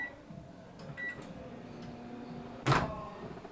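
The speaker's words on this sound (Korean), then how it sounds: "이거 전자레인지에 2분만 돌리면 되거든요" A microwave oven heats a serving of grilled mackerel, giving off a steady low hum with faint rattles, then one sharp, louder clunk near the end before the drone carries on.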